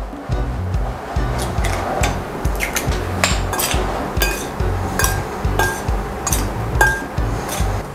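Seasoned chicken gizzards and an egg stirred in a bowl, with a steady run of quick clinks and scrapes of utensil against the bowl, close and fairly loud.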